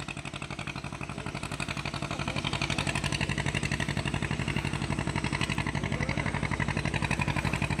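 A sand boat's engine pumps water out on a river, a loud, close, rapid steady chugging pulse that holds constant throughout with no voices.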